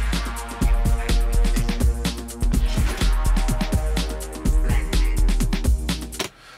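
An electronic track made in Ableton plays with punchy repeating drum beats, deep bass and layered synth lines in a steady loud groove, with small vocal sample snippets mixed in, then cuts off abruptly at the end.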